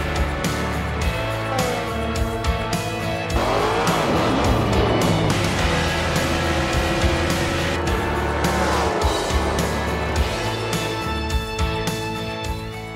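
Race cars roaring around the Bristol dirt track in the video game NASCAR 21: Ignition, a loud continuous pack of engines with rising and falling revs and tire squeal, with no talking.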